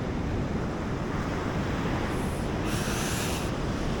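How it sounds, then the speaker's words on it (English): Ocean waves on a beach in Brazil just after sunset wash in as a steady, loud roar of surf close by, mixed with some wind buffeting and no talking. "Look at those waves."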